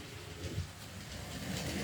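Low, steady rumble of a Pune metro train running on its tracks, heard from inside or close by, with a soft continuous whoosh.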